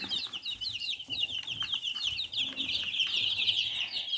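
Chicks cluck and chirp steadily in a busy chorus inside a mobile chick pen, the calls overlapping continuously with no talking.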